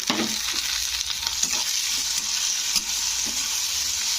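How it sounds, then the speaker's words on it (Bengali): Curry leaves crackling in hot oil in a pan while a spoon stirs them, a loud bright sizzle with repeated scraping strokes, close up and uninterrupted by speech. "এবারে দিয়ে দেব কারি পাতা তো কারি পাতাগুলো দিয়ে একটু নেড়ে"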